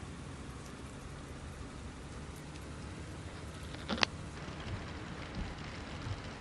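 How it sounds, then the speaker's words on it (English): Rain in the 18 Wheels of Steel Across America truck driving game: a steady, even hiss of rainfall. A brief, louder knock cuts through around the middle, then the soft downpour carries on alone. "it does rain in here"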